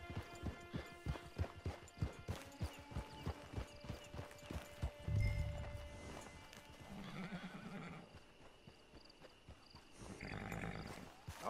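Horse hooves clip-clopping in the Red Dead Redemption 2 online game, a quick even run of close hoofbeats that slows and stops, followed by a loud neigh and snorting, with ambient outdoor background.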